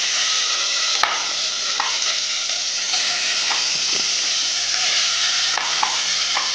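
Chopped tomato fries in white cooking oil, giving a steady loud sizzle with a few sharp spoon clicks and stirring scrapes across several seconds, no voices.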